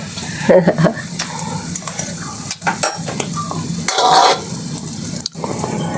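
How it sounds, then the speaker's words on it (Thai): Sweet fish sauce with tamarind bubbling as it comes to a boil in a pan, a close, loud churning sizzle with stirring scrapes and clinks. "รอมันเดือดแบบนี้นะทุกคน"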